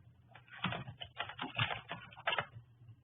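Computer keyboard typing comes through as a quick, uneven run of muffled key taps, moderately close and fairly quiet, heard alone.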